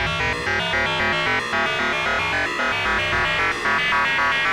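Synthesizer oscillators at different pitches run through a distortion character module, giving a dense, continuous gritty tone with steady layered harmonics and a shifting rhythmic pattern, loud and alone.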